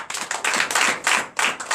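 A church congregation claps in acclamation during a night deliverance and prophecy service, bursts of many hands in loose rhythmic waves, close and loud, with no voices on top.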